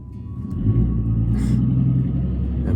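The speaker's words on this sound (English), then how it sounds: "that is a loud truck" A loud truck rumbles past nearby, a steady heavy low-pitched engine drone that holds strong throughout with a faint whine above it.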